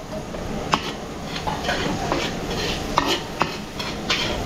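Garlic and onion sauté in a pan during catering cooking for a birthday, a steady sizzle under frequent metallic stirring clinks and scrapes, close up and without speech.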